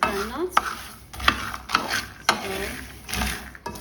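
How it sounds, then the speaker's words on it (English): Groundnuts roasting in a frying pan, stirred with a series of scraping, rattling strokes spaced about half a second apart over a faint steady sizzle, close and moderately loud. "Frying pan to roast or fry this groundnut."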